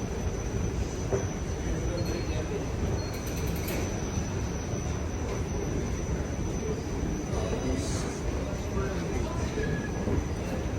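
Loud continuous rumble of a metro train with faint high squeals and clatter, echoing in an underground station in Hatay, Turkey.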